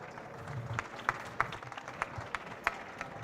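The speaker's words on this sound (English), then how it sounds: "You can applause them." Sparse, faint applause from an audience at an international green building awards ceremony, scattered individual claps over a low room murmur.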